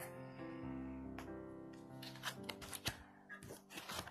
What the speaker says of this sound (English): I haven't had any cards fly out this whole time that I've been shuffling